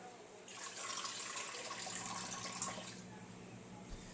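Water from a cooking pot of vegetable soup ingredients pours and splashes into a sink, a steady, close rushing for about two and a half seconds that tapers off into faint drips and background noise.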